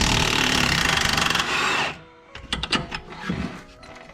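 Power tool, likely an impact gun, zapping an 18 mm bolt on the front suspension of a Mk4 VW GTI. A loud, steady buzzing whir runs for about two seconds, then stops, followed by quieter clinks and rattles.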